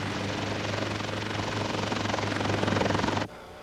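A firefighting helicopter's steady, loud rotor thrum and engine whine hold close for about three seconds, then cut off abruptly, leaving a faint hum.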